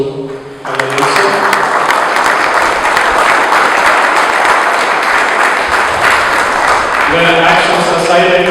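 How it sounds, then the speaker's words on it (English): A departmental seminar audience gives a loud, sustained round of applause, dense clapping that sets in after a short pause and carries on to the end, with speech heard beneath it at the start and close. "A round of applause to our answer."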